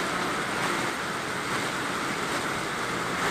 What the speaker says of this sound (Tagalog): Ganun po kalakas ang hanging habagat na